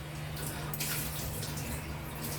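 Pasta rasgulla payesh simmering in a covered pot on a gas stove, a steady close bubbling hiss with soft watery gurgles and a constant low hum throughout.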